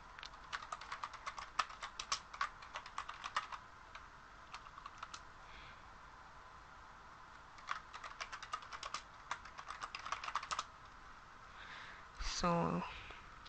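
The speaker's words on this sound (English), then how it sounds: "Just gonna type Minecraft, fail" Typing on a computer keyboard to enter a Google Images search, with rapid bursts of clicky keystrokes in several runs separated by pauses, close and fairly quiet, with a short unrelated sweep near the end.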